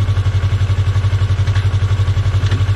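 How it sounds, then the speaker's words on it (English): A motorcycle engine idles in neutral at close range, its steady low thump pulsing in a fast even rhythm with light mechanical clatter above it. "So I'm going to put the bike back in neutral."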